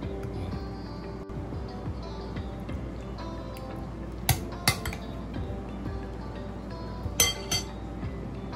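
Russian salad is spooned onto a plate with sharp clinks of metal utensils against dishware, a few distinct taps standing out over a soft background hum.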